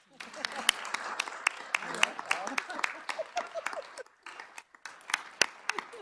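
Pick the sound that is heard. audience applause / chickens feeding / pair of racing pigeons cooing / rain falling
audience applause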